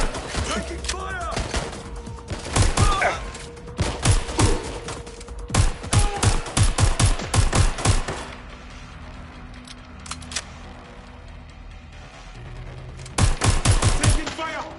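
Rapid bursts of automatic gunfire from a PS4 shooter game, loud and close, with repeated volleys across the clip and quieter gaps between them, some game voice chatter underneath.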